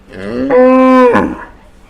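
One cow at a temple cattle-feeding spot gives a single loud, close moo of about a second, rising and then breaking off, against a quiet background.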